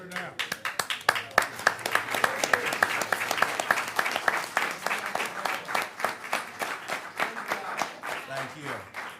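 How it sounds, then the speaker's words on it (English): A live audience gives a sustained round of applause at an open session, many hands clapping densely and evenly for about nine seconds, with a few voices faintly underneath. "I think that should get another special round of applause"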